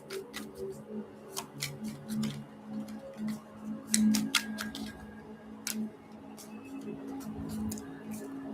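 Tarot cards being shuffled, giving soft crisp ticks and flicks of card edges in irregular bursts at close range, under a steady low hum.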